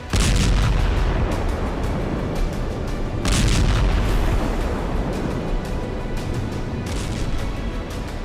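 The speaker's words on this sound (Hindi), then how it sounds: "लगा जैसे ज्वालामुखी में धमाका हुआ है, लेकिन ये रूस के बम का असर था।" Heavy, continuous rumbling with deep booms bursting out at intervals, loud and roaring like a large explosion with debris and fire, from Russian bombing in Ukraine that shakes the ground.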